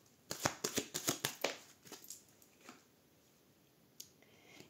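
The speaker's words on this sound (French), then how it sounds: "Et puis après, on va aller tirer quelques cartes." Tarot cards being shuffled and drawn, a quick run of crisp riffling slaps up close followed by a few softer, sparser card flicks in a quiet room.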